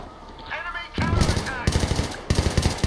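Rapid automatic gunfire from Battlefield 3 in co-op play, sounding as several dense, loud bursts one after another with a faint voice beneath.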